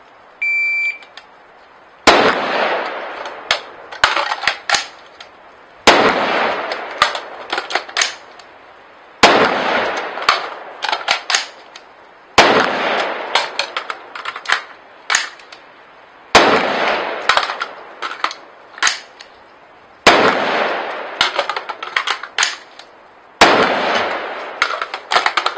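NGA X7 rifle fired on an outdoor range, sharp loud gunshots in a steady series of about eight evenly spaced reports, each followed by a short echoing tail, with no talking.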